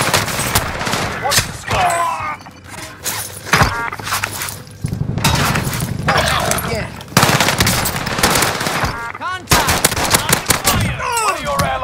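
Video game gunfire in a shooter match: loud, dense bursts of rapid automatic fire and single shots crowd the whole stretch, broken by brief pauses, with voices and game chatter layered underneath.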